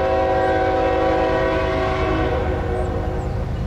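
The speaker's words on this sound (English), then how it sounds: "We have a train coming westbound here." A westbound freight train approaches with a loud, sustained multi-tone horn over the heavy rumble of the engine and rolling cars, close by and continuous.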